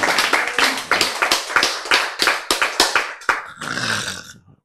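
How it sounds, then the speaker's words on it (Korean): A handful of people clap at a Korean Bible lecture in a sharp, rhythmic series of about a dozen close hand claps, ending in a brief cheer-like burst. "지금 여러분 박수를 많이 쳤는데"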